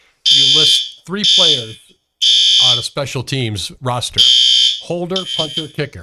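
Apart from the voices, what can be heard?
fire alarm going off in TV studio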